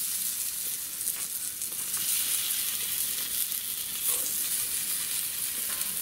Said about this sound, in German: Aber es brutzelt, es ist richtig heiß geworden.